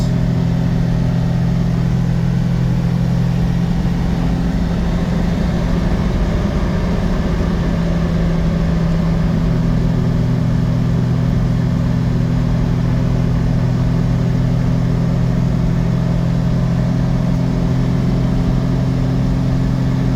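A 1998 Suzuki Carry 4x4 dump truck with a five-speed manual cruises at about 90 km/h, its engine a steady loud hum with road and tire roar throughout and a slight shift in pitch midway.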